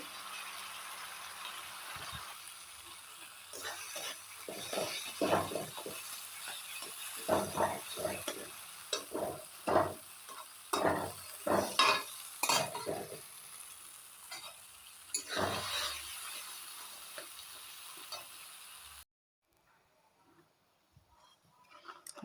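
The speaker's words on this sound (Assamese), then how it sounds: "এইখিনি এতিয়া ভালকৈ ভাজি ল'ম" Diced potatoes fry in a pan with a paste of garlic, chili and cumin, a soft sizzle under repeated scraping stirs in an uneven rhythm, then the pan falls quiet near the end.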